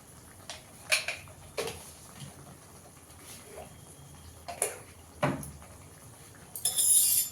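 A spoon clinks and scrapes in a pan while spices are mixed into a pointed gourd filling, a few sharp metallic taps spaced across a quiet background, with a louder scrape at the end.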